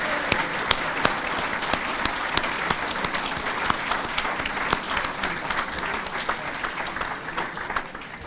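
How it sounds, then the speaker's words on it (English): A sports hall of fame audience claps for its inductees in sustained, moderately distant applause, individual sharp claps standing out against the steady patter throughout. "How about a round of applause for all of the inductees?"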